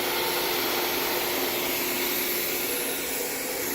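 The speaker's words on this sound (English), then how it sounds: "the machine moved. It checked the limits up, down, left, and right, and then the x-axis it moved all the way to the end." A ShopBot CNC router runs through its limit-checking motion along the axes, a loud, steady broadband motor and spindle whine that holds continuously without pause.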